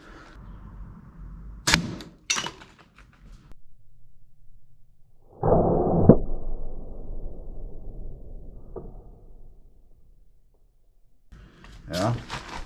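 An Alligator pistol crossbow shoots bolts at safety glasses: a couple of sharp, close snaps, then a loud thwacking impact that rings and fades over several seconds, followed later by more crisp clacks.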